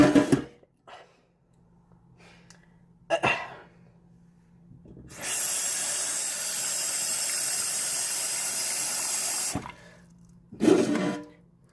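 Tap water runs into a cooking pot at a kitchen sink while ramen is being made: a steady rushing stream lasting about four seconds, with short knocks and clatter before and after it.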